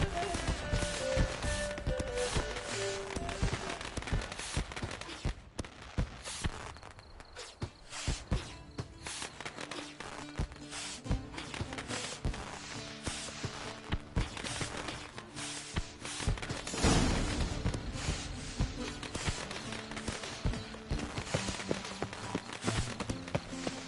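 Horse hooves clip-clop steadily through a scene in the Witcher 3 video game, a continuous stream of close hoofbeats mixed with game music and ambient effects.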